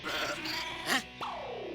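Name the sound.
person imitating a goat bleating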